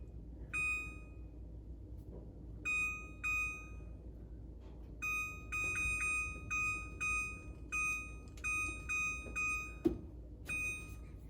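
Kitchen timer in a home kitchen, set while sourdough bread bakes in a hot oven, beeps in repeated short bursts of rapid pips over about ten seconds, faint against a low room hum with one small clunk, no talk.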